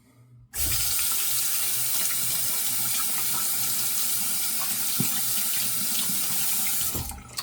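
A bathroom tap suddenly opens and runs steadily into a sink to rinse a razor during a wet shave, a close, constant rushing stream with a faint clink near the end before it eases off.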